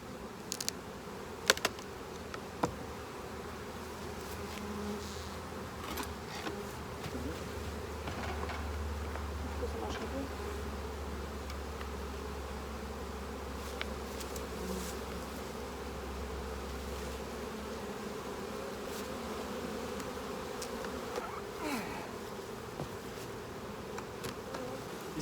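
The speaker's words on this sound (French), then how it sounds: "Ici, les abeilles qui atterrissent sont déjà pleines de pelotes de pollen." Honey bees buzz continuously at a hive entrance fitted with a pollen trap, a steady droning hum with individual bees passing close by and a few faint knocks, no talk.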